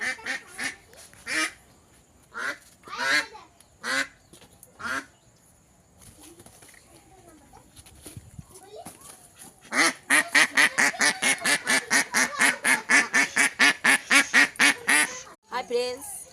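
Ducks quack and honk on a winter morning, a few scattered calls early on, then a loud, rapid run of repeated quacks close by near the end.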